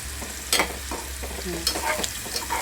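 Ginger and garlic frying in a pan for green chilli chicken masala, a steady close sizzle with scraping stir strokes and a few sharper clinks, no voices.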